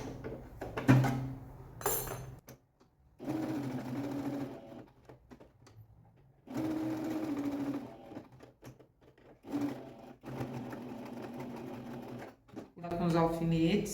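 A sewing machine stitches fabric for a small Easter bunny tote bag, running in several bursts of steady whirring with pauses between, while a person talks over and between the runs.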